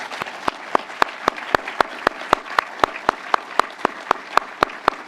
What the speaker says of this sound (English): a round of applause for all of our panelists